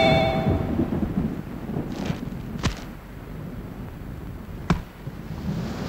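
Thunder in a rainstorm: a steady rain hiss with two sharp, loud cracks of nearby thunder and softer rumbles between them, with no voices over it.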